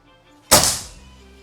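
A single sharp, thumping shot from a PCP air rifle, close by, with a short fading tail and no talking.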